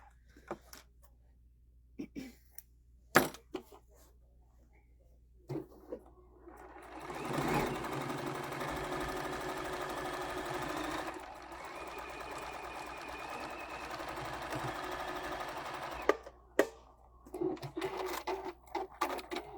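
A sewing machine stitches a quilt-as-you-go table runner in one long steady burst, preceded and followed by short clicks and handling knocks, with faint voices in the quiet stretches.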